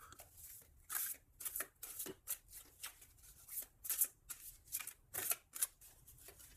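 Playing cards for a tarot-style reading are shuffled by hand in rapid, repeated riffling bursts, close and crisp, with brief gaps between each pass.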